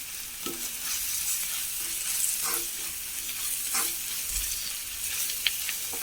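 Fresh curry leaves drop into hot oil with fried chillies for a liver curry, giving a steady soft sizzle and crackle with faint stirring scrapes throughout, fairly quiet and close, with no voices.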